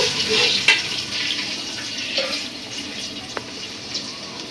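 A little water splashes into a pan of fried onions, giving a soft pouring and bubbling hiss with a few faint clinks, close and fairly quiet, without talk.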